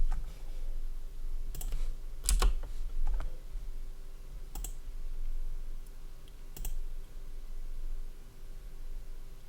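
Several sparse keystroke clicks on a computer keyboard while entering a plugin search in Tdarr on Unraid, spaced irregularly over steady low room hum, with a louder cluster of taps near the start.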